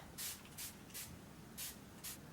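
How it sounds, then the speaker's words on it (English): Facial mist spritzed during a morning skincare routine, five short airy hissing bursts with brief pauses between them, close and soft over a faint room hiss. "All right, spritz."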